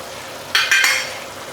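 Coconut slices drop into a pan of frying Pallipalayam chicken and are stirred, giving two quick, loud sizzling bursts that fade into a steady low fry with no talking.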